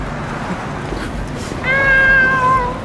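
A man imitates a cat with a drawn-out, nasal meow near the end, preceded by a dull stretch of outdoor background noise.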